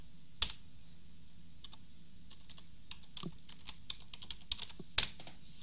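A password being typed on a computer keyboard, heard as sparse, faint key clicks in an irregular rhythm, with two louder sharp key strikes near the start and end, in a quiet room.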